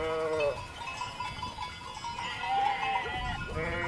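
Sheep bleating in a pasture with wolves nearby, guarded by white Maremmano dogs; several wavering bleats sound at moderate distance over steady outdoor ambience, with a faint bell-like tone.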